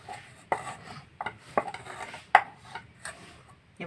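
Coriander leaf paste is scraped and transferred into a bowl in a home kitchen, with several sharp clinks and scrapes of a utensil against dishware spaced over a few seconds, close and moderately loud, no talking.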